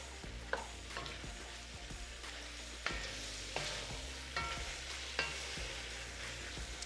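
Ginger and garlic paste being stirred into a pan of beef curry, with steady close sizzling and occasional clacks of the spoon against the pot.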